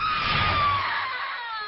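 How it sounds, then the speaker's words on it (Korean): A woman screams in shock at home, one long loud high sustained scream that slowly fades, heard alone. "어머니의 비명소리."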